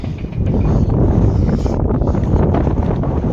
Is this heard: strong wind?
yes